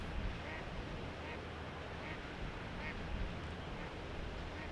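Faint, distant ducks quack a few times at a steady pace over a constant wash of wind or water noise, in Southern California.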